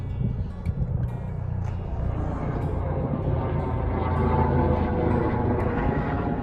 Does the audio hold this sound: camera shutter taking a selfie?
no